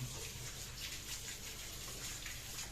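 Tap water runs steadily and faintly in a small kitchen while washing up, a continuous soft gush with no breaks.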